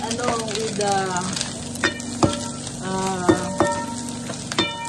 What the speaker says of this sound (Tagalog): Yan ang pagluluto ng fried rice.